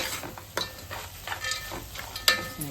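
Mutton curry fries in a pan with a soft, steady sizzle, broken by intermittent scraping stirs and a few sharp metallic clinks of a spoon against the pan.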